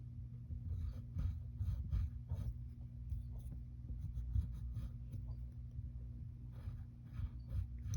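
A pen or pencil draws small irises on paper in a cartoon portrait. Light scratchy strokes come in short bursts over a steady low electrical hum, quiet and close, with no voices.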